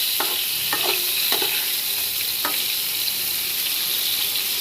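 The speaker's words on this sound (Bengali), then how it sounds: "পটলগুলোকে ভালো করে ভেজে নিই।" Pointed gourd pieces fry in a pan for a vegetarian Bengali meal, giving a steady loud sizzle throughout with a few sharp stirring scrapes and clatters near the start.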